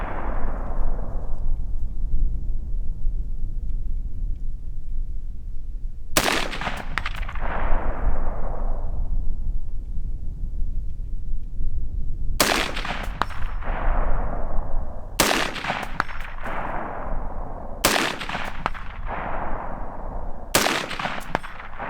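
A Colt A2 government carbine clone rifle firing, five sharp, loud close-range shots at irregular intervals, each with a ringing echo that decays, over a steady background hum.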